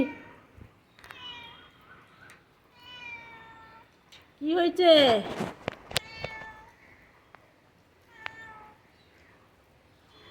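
A cat meows several times, drawn-out cries spaced a second or two apart, with a brief spoken question in the middle.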